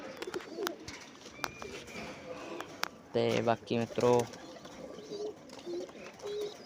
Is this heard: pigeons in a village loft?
yes